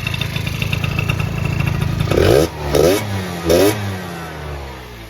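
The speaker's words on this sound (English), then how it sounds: "She's sounding good though, I ain't gonna lie." A 1988 Honda Tact scooter's small engine idles with a steady buzzing hum, then revs sharply three times in quick bursts before settling back down, loud and close with no talking.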